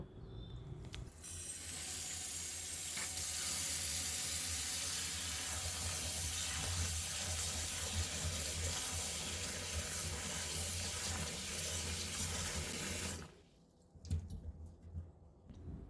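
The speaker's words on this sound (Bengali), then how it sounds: "এবার এগুলোকে আমি একটু ভালো করে ধুয়ে নেব" Tap water runs steadily over peeled ridge gourd being washed in a sink, a continuous close splashing rush lasting over ten seconds before it cuts off, followed by faint drips and handling noises.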